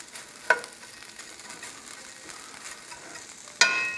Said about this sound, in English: 1/3 to half the bag of potatoes. I'm going to let those crisp up.